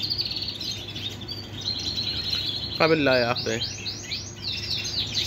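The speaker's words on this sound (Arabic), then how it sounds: "كناري شيرازي فول الفول، اصفر مشجر لونه كلش حلو، وقرايته مثل ما شفتوها قدامكم" A yellow variegated Shirazi canary sings with high, continuous warbles and rapid trills over steady background noise, while someone speaks briefly.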